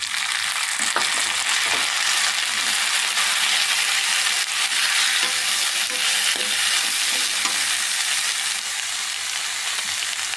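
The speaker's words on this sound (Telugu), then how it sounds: "ఇలా రొయ్యలు ఉల్లిపాయలు రెండు కలిపి బాగా ఫ్రై చేసుకోవాలి" Small prawns and onions fry together in a pan with a steady, loud sizzle, and faint stirring clicks sound now and then across the continuous hiss.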